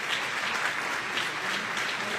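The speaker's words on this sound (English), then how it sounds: "Because you all do deserve a big round of applause." Standing attendees at an honoring ceremony for a Michigan appeals court judge keep up a soft, even wash of clapping, heard from some distance and steady throughout a short stretch.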